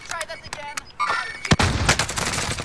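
Gunfire in Call of Duty Warzone (Cold War): sharp repeated shots, then a dense rapid burst of automatic fire, with game sound effects around it.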